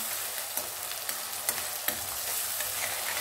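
Popti (field bean) seeds for a rassa bhaji sautéing over a low flame, a soft, even sizzle close by with a few sharp spoon scrapes and taps against the pan at irregular intervals.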